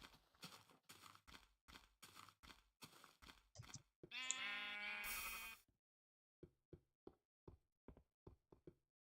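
Sheep in Minecraft Indev bleat once in a clear, loud, wavering cry, framed by a run of sharp, rhythmic knocking clicks before and after, with no talk.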